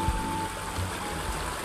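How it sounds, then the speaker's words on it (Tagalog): Babbling stream water flowing over a river bed, a steady close wash of trickling and gurgling with a faint low hum and a few soft bumps, no talk. "Lagaslas."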